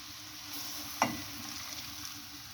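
Green peas fry in a pan with a faint, steady sizzle and a soft stirring scrape. The sound is quiet and continuous, with one brief knock near the middle.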